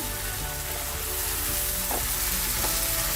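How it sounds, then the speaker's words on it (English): Beef chukka with coconut pieces, Kerala style, sizzles steadily in a hot pan while being stirred, with a dense, continuous frying hiss and a couple of brief stirring scrapes. "Increase your heat and start stirring it well,"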